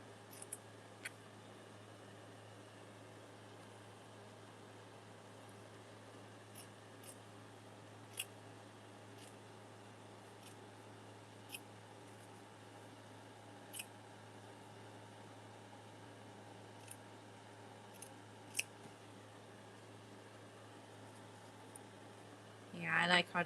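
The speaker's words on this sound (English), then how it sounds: "And then I'm just going to cut a straight strip all the way to the other side." Scissors snip a straight strip of paper for a junk journal craft project, a series of quiet, sparse crisp cuts spread across a soft room hum, ending with a brief paper rustle.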